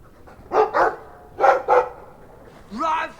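A dog in Dragon Age 2 barks in two quick pairs, close and loud, followed by a higher whining yelp, with quiet background between the barks.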